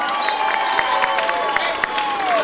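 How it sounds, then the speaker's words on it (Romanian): Concert crowd in Tulcea at a 2014 city-days festival, applauding and cheering with steady clapping texture and crowd noise, a voice faintly audible over it. "Aplauze!"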